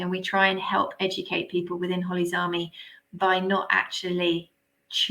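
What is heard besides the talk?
No everyday noise stands out behind the speech.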